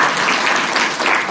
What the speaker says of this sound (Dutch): Even applaus alvast voor hem.